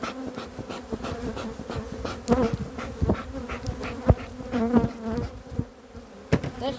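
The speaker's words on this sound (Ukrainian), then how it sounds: "Повно бджоли." Honeybees buzz steadily and nearby at a hive, a dense droning hum with individual insects swelling louder as they pass close, with occasional soft knocks of hive boxes and no talking.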